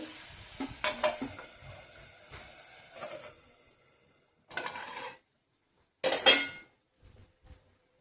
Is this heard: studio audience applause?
no